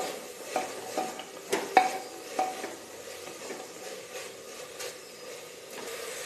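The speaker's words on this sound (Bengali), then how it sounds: "এবার দিয়ে দিচ্ছি ছাড়িয়ে রাখা মটরশুঁটি ভালোভাবে মিশিয়ে নেব" Shelled green peas are stirred with spices in a pan, with light scraping strokes and a few sharp clinks of the spoon against the pan over a soft sizzle, close by and with no talk.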